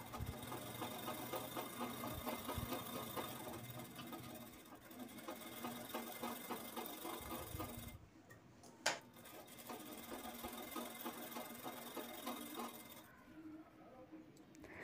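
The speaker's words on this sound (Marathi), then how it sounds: "तर साईडने आपल्याला पूर्ण शिलाई करून घ्यायची आहे।" A domestic sewing machine stitches along the side of a four-layer quilted fabric piece for a homemade travel bag, a fast steady mechanical whir and tick that pauses briefly twice, close and fairly quiet.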